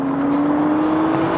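A Mercedes SL accelerates at full throttle with a loud, steady engine drone whose pitch climbs slightly over a brief moment, heard alone and close.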